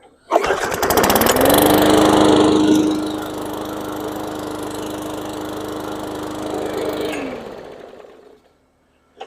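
An old junked gasoline lawn mower engine starts on one pull, sputtering to life with a loud roar, settles into a steady hum, then runs for several seconds before cutting off.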